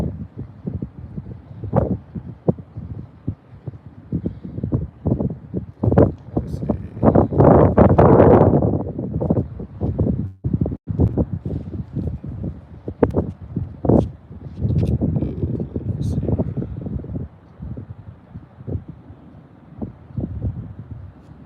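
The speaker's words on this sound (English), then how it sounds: "Yeah, it's a lot of wind. My bad. It's windy as shit out here." Heavy, rumbling buffeting of wind against the microphone, gusting throughout and swelling loudly in places, with a voice talking underneath.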